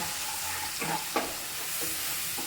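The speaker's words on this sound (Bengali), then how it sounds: "এবার আমি মশলাটা ভালো করে কষিয়ে নেব" Spice masala of coriander, turmeric and garam masala powders being stirred and fried for chana masala, a steady close sizzle with a few distinct scraping stir strokes.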